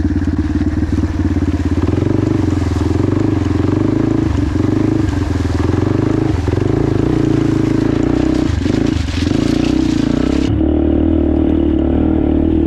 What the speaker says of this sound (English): This noisy old bloke on his motorbike.